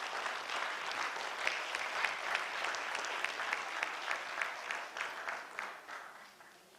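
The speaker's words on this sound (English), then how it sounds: "Please give a warm round of applause" Warm audience applause in a conference hall welcoming a keynote speaker, a full steady clapping crowd that holds level and then begins to taper off near the end.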